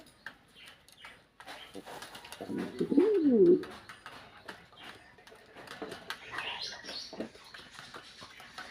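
King pigeons cooing as they come to feed on grit, a throaty rolling coo rising and falling at close range amid shuffling and pecking noises, with soft movement sounds before and after.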